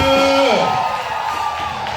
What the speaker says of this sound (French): Est-ce qu'on peut pousser des cris de joie à l'honneur de notre Dieu?